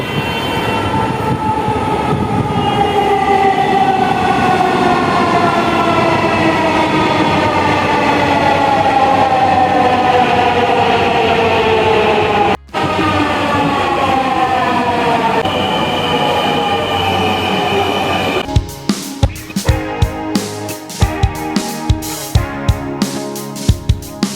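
A metro train runs loudly and steadily, motor whine sliding down in pitch, then rhythmic clacks and thumps of wheels over track joints near the end.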